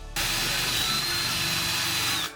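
Power drill spinning a wire wheel that scrubs black paint off a brake caliper, one steady high whirring run of about two seconds, close and loud, starting and stopping abruptly.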